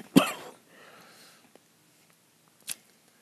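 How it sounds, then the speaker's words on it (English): A single sharp cough bursts out close to the microphone, followed by a faint breathy trail and then a brief second, smaller cough after a pause. "I got to cough."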